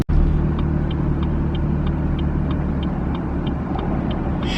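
Car fitted with an Active Autowerke equal length mid pipe exhaust, driving with a steady loud engine drone and deep low rumble throughout, close to the cabin, with a faint repeating tick.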